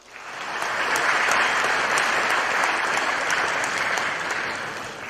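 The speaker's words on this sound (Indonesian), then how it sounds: "tepuk tangan untuk kalian semua" Applause from the audience at a vocational high school graduation and send-off ceremony in Bekasi, a steady broadband wash of many hands clapping that swells quickly and holds for about five seconds with no talk over it.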